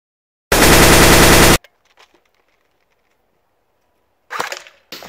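An airsoft replica gun fires one rapid, loud burst of about a second, followed by near silence and a brief rattling clatter near the end.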